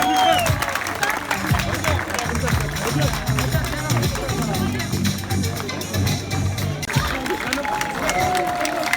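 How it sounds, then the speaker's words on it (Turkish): Crowd applause at a road race ceremony outdoors, clapping and cheering mingled with babble and a voice over loudspeaker, loud and continuous. "Bir alkış rica ediyorum"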